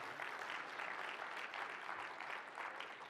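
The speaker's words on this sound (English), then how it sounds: "Give him a round of applause." Audience applause at a conference talk, a faint, steady wash of distant clapping throughout.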